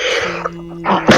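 A single sharp sneeze close to the microphone, brief and abrupt, with a short breathy burst at the end.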